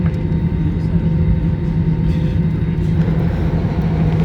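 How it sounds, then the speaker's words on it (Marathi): Cabin rumble of a passenger airplane landing on a flight from Berlin to India, a steady loud low drone of engines and rolling throughout with a faint murmur of voices. "लँड होताना अशी एक अनाउन्समेंट होते आणि तुम्हाला बाहेर बघा अजूनही विमान दिसत असतील फ्लाईट लँड झाली"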